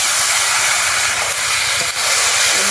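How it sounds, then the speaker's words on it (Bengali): Meat dropped into hot oil in a village kitchen, frying with a steady, loud hiss and sizzle that holds close and continuous for the whole stretch, briefly dipping near the end. "এবার মাংসটা দিয়ে দেবো"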